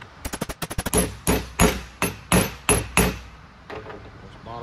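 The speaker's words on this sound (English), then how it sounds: "We're going to use our hammer to drive our bearing on." A hammer driving a bearing onto the shaft of an Eaton Fuller 13-speed transmission back box: a quick burst of light taps, then five or six heavy, ringing metal blows at an even pace, close and loud.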